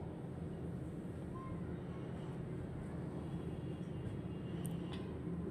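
A metro rail train gives a steady, even rumble and hum, constant and moderately loud throughout, with no clear voices.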